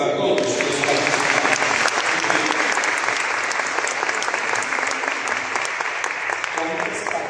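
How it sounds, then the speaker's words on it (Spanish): A large crowd at a parish gathering gives loud, sustained applause, dense rapid clapping filling the room steadily for several seconds. "Un aplauso para todos los participantes."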